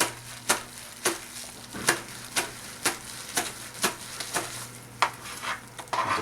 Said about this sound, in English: Just going to cut this into small little pieces